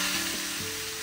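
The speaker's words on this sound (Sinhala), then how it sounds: "ඊට පස්සේ තෙල් එකට කිසිම දෙයක් එකතු නොකර කෙලින්ම චිකන් ටික දාගන්නවා" Chicken pieces frying in oil in a large pot, a loud, dense, continuous sizzle up close with faint clinks of stirring underneath and no voices.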